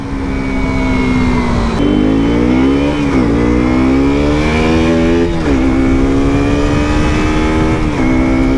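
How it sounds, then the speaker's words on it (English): The engine of a KTM RC 125 motorcycle revs hard at full throttle, a loud, buzzing single-cylinder whine that climbs through the gears with brief dips at each shift, heard up close and continuous. "with this bike I'm always at full throttle"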